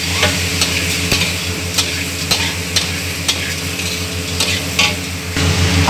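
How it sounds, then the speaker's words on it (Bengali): Banana pieces frying with ginger-garlic paste in a hot pan for an Assamese kola til dish, a steady sizzle under repeated scraping and stirring strokes, close and fairly loud, with no voices. "আমি কলটো বহুত এটা ভাজি লৈছোঁ, এতিয়া ভাজি লৈ আছোঁ"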